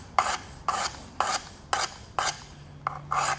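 Knife edge rasping against a Work Sharp sharpener in seven evenly spaced bursts, each a short gritty grind of about a third of a second with brief quiet gaps between, close and fairly loud with no talking.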